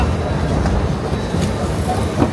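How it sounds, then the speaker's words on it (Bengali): A train arriving at a station platform, heard as a loud, continuous low rumble of rolling wheels with faint clatter rising and falling through it, close by, with a voice faintly in the background. "ট্রেন এক্ষুনি আসবে প্ল্যাটফর্মে।"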